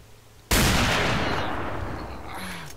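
A single loud gunshot fired at an enemy in the game S.T.A.L.K.E.R., a sharp broadband blast followed by a long rolling echo that decays over two seconds, with no talk over it.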